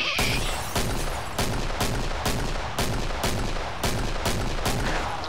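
Rapid, repeated gunfire bursts ring out in the video game Killing Floor, a steady rhythm of loud shots lasting several seconds with no speech.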